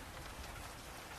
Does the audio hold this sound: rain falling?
yes